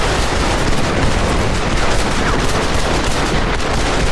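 Dense, continuous gunfire fills a showdown in the Western video game Red Dead Redemption, a loud unbroken roar of overlapping shots and bursts with no pauses.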